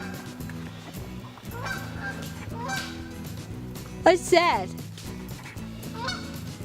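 Goose honks break out around the middle, loud and close, a short cluster of calls over a busy background with a brief spoken question nearby.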